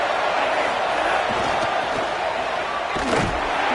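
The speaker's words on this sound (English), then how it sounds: "This crowd bringing the energy and noise early." A loud, steady stadium crowd roars throughout, a dense wash of cheering and noise with a few sharper surges.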